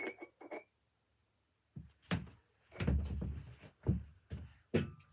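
A handmade ceramic lid topper is set onto a glass, giving a few short clinks and knocks with pauses between them, close and fairly crisp, no talking.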